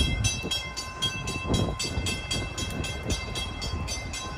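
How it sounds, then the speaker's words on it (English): A Union Pacific train sits across a rail line in San Francisco, making a continuous loud rumble. Repeating metallic clatter and rhythmic clicking run through it with little change, and no voices are heard. "that's a Union Pacific train blocking this line right now"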